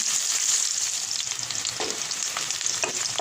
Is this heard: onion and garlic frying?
yes